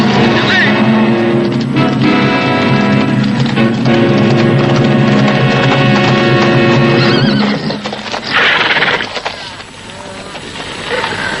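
Horses gallop in a western chase after cattle rustlers: loud, rapid hoofbeats pound along with whinnies and neighs, a busy, driving rush that thins out near the end.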